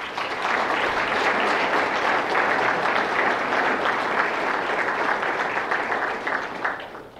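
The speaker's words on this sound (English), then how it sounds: "deserve a round of applause." Sustained audience applause at a STEP trade conference fills the room, loud and steady throughout before tapering slightly at the end, with no talking over it.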